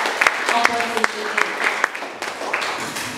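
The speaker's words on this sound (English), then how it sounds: "let's give applause for preparation team and opposition team." Audience applause at an English debating competition final between two high schools, a steady wash of clapping with scattered louder claps and some voices mixed in.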